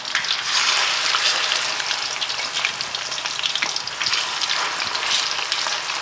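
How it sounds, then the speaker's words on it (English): Pieces of chicken with no flour or coating frying in hot oil, a steady loud sizzle and crackle holding throughout with occasional brighter pops, no voices. "we're frying this in batches"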